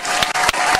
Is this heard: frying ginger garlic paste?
no